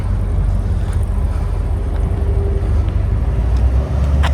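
A supercharged VF HSV R8 Clubsport pulls away with a deep, steady low engine rumble. The sound is fairly loud and constant, with no talking over it.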